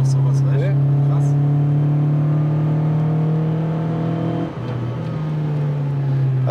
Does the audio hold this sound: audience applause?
no